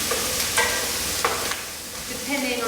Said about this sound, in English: So use a spoon, stir them around every so often.